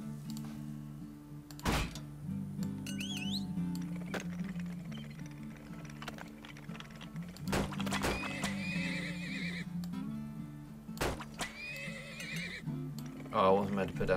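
Horses neigh and clip-clop in the oil-drilling game Turmoil, with several short whinnies scattered over a steady low mechanical hum and occasional sharp thunks, moderately loud and up close.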